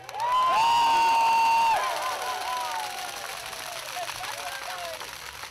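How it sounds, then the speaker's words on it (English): A crowd at a National TAFE Day rally in South Australia cheers and whoops loudly, with a sustained shout at the start fading into scattered cheering and clapping. "Can I hear a big cheer for TAFE?"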